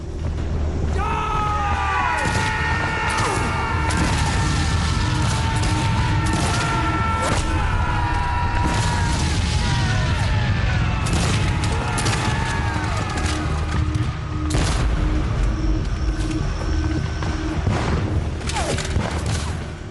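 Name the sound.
rifle musket gunfire volleys, Gettysburg battle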